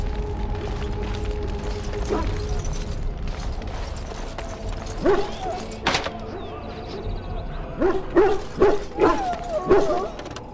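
Hounds bark in the army camp at Ostagar in the video game Dragon Age: Origins, with a run of loud, close barks and yips in the second half over steady mechanical background clatter.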